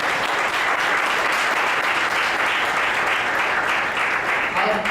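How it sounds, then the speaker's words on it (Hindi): A church congregation claps loudly on request during a Hindi sermon, a dense, sustained roar of many hands at a constant level for the whole stretch. "जिनको अच्छी नींद आती है, एक जोरदार ताली बजाइए।"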